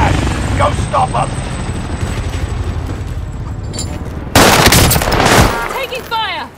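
Gunfire in Call of Duty Warzone: a steady bed of rotor-like rumble and chatter, then a loud burst of rapid automatic fire near the end, with ricochet-like whines trailing after.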